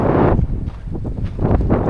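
Wind blowing by the Sirindhorn Dam reservoir in rural Isan, Thailand, heard as close, loud gusty buffeting on the microphone that surges and eases over two seconds, with no talk.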